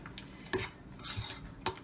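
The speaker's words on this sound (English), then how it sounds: "a tablespoon of Dijon, and you just mix it together" A spoon stirring a tablespoon of Dijon mustard into a crab dip in a bowl, soft scraping and mixing with a few sharper clinks against the dish, quiet and close.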